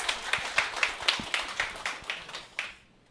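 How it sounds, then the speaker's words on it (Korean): Audience at a company sales gathering clapping as presenters come forward: a steady run of sharp, evenly spaced claps close by, thinning out and stopping near the end. "큰 박수 부탁드리겠습니다."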